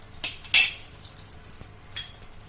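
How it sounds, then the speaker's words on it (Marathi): Butter going into hot oil in a kadhai, two short bright sizzling bursts up close followed by a quieter ongoing fry and a faint clink. "ही पहा आता आपलं तेल आहे कढईत पण थोडं बटर टाकणार आहोत आपण"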